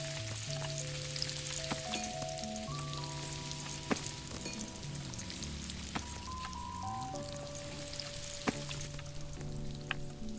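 Bacon sizzles on a grill in a Roblox burger-cooking game: a steady, loud broadband frying hiss runs throughout beneath layered electronic game music tones.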